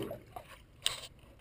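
Paddling a boat on Cypress Creek, soft close water splashes and drips from strokes against slow water, faint and intermittent with one sharper splash.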